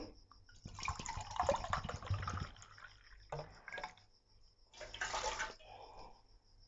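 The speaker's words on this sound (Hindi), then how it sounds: "सबसे पहले मैं 2 कप पानी इसमें डालूंगी" Water poured into a cooking pot at home as the first step of making Kashmiri pink tea, two cups going in as a close, splashing pour in a few bursts, with brief pauses between them.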